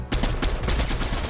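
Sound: gunfire in a shooter video game

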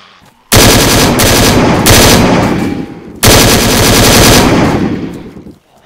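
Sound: gunfire from a gun in the video game DayZ

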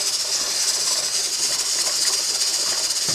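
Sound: steam hissing from opened pressure canner

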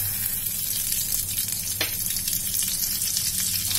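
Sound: dried red chillies and mustard seeds frying in oil

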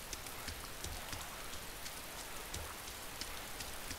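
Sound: rain in a video game

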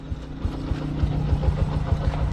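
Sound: vehicle engine idling after warming up

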